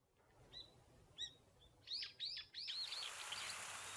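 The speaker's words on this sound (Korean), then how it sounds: "활기찬 새소리에" Lively morning birdsong in a mountain village in Hongcheon, Gangwon Province, a few clear chirps building into a quick tweeting phrase, close and fairly bright, followed by a wash of hissing background noise.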